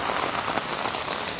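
Heavy rain pours down onto surfaces during a downpour that floods the roads in Chandra, Kaliakair, Gazipur, making a dense and steady hiss with no voices.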